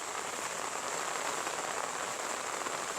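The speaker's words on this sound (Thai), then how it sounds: "ฝนตกลินลินนะ" Light, steady rain falls on a surface in a rural Isan village in Thailand, a dense even patter of fine drops with no breaks and no voices, filling the whole moment at a moderate level.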